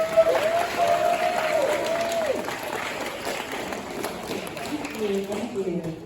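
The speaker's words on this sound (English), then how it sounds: "Clap it up for her." Audience applause rings out at a 5th grade graduation ceremony, steady clapping from a crowd filling the room for several seconds, while a voice talks over the start and murmurs follow near the end.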